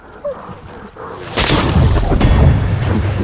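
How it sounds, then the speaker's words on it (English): A sudden loud boom hits partway through a horror film scene of people kayaking under gunfire, after a quieter stretch, and leaves a sustained rumbling wash of noise ringing on afterward. "Someone's shooting at us."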